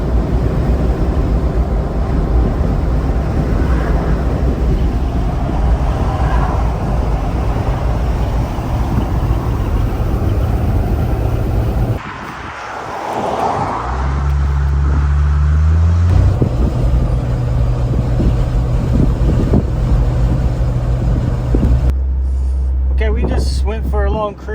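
A Jeep Wrangler with a 3.6L engine cruising on the highway, giving a loud, steady drone of road and wind noise with a low engine hum, heard from inside the cabin.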